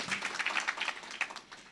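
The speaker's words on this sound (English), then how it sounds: "Can we please give him a round of applause?" Audience applause at a speaking event, a dense crowd of hands clapping steadily at moderate loudness for the whole moment, with no voices over it.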